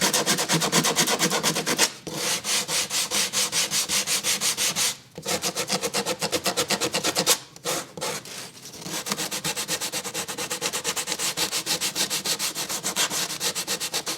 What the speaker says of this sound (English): So I'm just gonna hit all the surfaces. It's just 100 grit sandpaper.